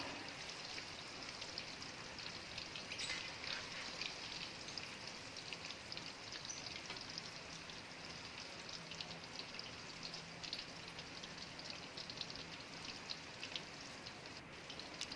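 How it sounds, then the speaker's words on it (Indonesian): Cut tofu pieces frying in hot oil for a squid and tofu balado dish, a steady dense sizzle and crackle that runs unbroken and fairly even throughout, with no talk over it. "di sini kita goreng dulu tahu yang tadi sudah kita potong-potong. Kita goreng sampai benar-benar matang ya."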